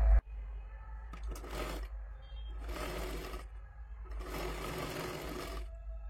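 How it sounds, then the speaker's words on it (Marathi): A sewing machine stitches a fabric strip on a katori blouse in three close, loud bursts of rapid needle chatter, separated by short pauses under a steady low motor hum. "इथे पूर्ण शिलाई मारून घ्यायची आहे"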